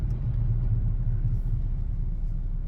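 Steady low engine rumble heard from inside the cab of a work truck, a constant droning idle with no talk over it.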